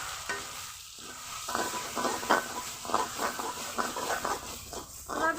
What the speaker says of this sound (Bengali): এভাবে অনবরত নেড়ে নেড়ে ভর্তাটা বানিয়ে নিতে হবে।